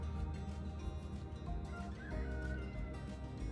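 Rhythmic clucking of a chicken heard ashore from a sailboat at anchor near Preveza and Lefkada, moderately near over a low, steady background hum, repeating throughout.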